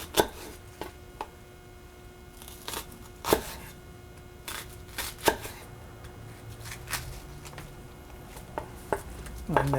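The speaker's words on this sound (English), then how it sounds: "I'm going to chop these fairly fine" A knife chops an onion finely on a cutting board for pasta puttanesca, with sharp irregular taps that come in small bursts and are spaced unevenly. The chopping is close and clear over a quiet kitchen background.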